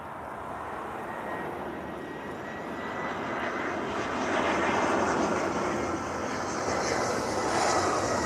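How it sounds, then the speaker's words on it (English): An EasyJet airliner lands at Lisbon Airport, its jet engine roar heard from a distance and swelling to a loud broad rumble over several seconds. "We have an EasyJet landing."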